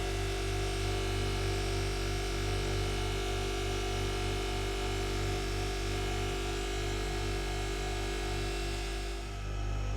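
A polishing wheel buffs tarnish off brass curtain rods with a continuous, steady electric motor hum and whir that drops away near the end.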